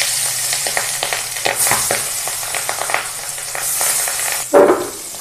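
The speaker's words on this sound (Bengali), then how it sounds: "মাছগুলো দিলাম, মাছগুলো ভেজে নেব।" Rohu fish pieces go into hot oil, a crackling fry with small scattered spatters and a few louder bursts, close by and without speech.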